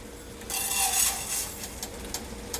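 Rice stirred and toasting in a pan on a burner over high heat, a close scraping swish with faint sizzle and light utensil clinks, no talk.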